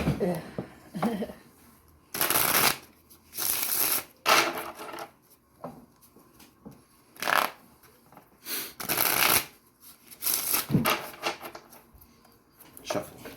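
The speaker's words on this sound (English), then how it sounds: "Shuffle a minimum of 3 times" Tarot cards are shuffled again and again in short, crisp riffling bursts separated by pauses, close by, with faint speech in between.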